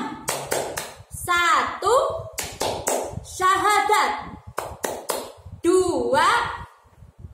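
A teacher and a child perform a clapping chant about the five pillars of Islam in a first-grade religion lesson, with sharp, close hand claps in quick rhythmic bursts between spoken, sing-song counted lines.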